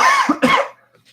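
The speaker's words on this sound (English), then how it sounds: "this milkshake is starting to make me like cough" Two quick, harsh coughs close to the mic while drinking a milkshake, one right after the other, followed by silence.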